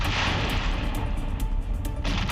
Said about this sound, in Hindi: इस वीडियो में प्रोजेक्टाइल के गिरते ही बड़ा धमाका होता है।